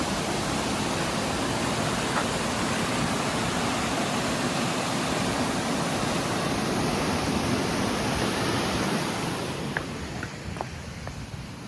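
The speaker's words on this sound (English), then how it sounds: "got a lovely waterfall here" A Lake District waterfall roars with a dense, continuous rush of water close by, easing slightly near the end, while a few faint clicks sound over it.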